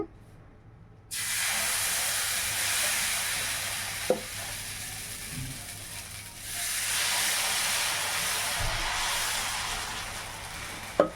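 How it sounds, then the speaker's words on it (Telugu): Dosa batter poured onto a ghee-greased pan sizzles loudly and steadily, with a sharp hiss starting after a second and swelling again midway, plus a few soft clinks of a utensil. "తర్వాత నేను దోశ పిండి వేసుకుంటాను."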